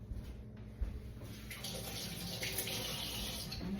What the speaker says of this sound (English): Let me wash my hands real good